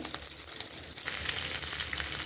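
Spices frying in hot oil for a tomato, mint and coriander chutney make a soft, continuous sizzle with faint crackles and light stirring.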